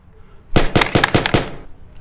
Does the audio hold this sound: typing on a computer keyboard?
no